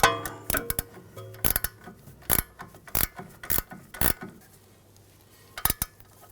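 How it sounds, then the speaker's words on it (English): A ratchet wrench with a 5mm hex socket turning on a sway bar link of a 2006-2010 BMW 550i, giving a series of sharp, close metallic clicks in uneven bursts with quiet gaps between. "we use the 15mm ratchet wrench, 5mm hex socket"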